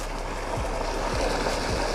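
A waterfall rushes at a fishing spot, a loud, steady broadband roar of falling water that fills the whole moment, with no talk over it.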